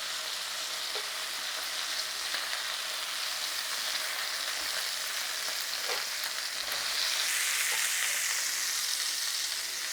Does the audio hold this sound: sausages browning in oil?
yes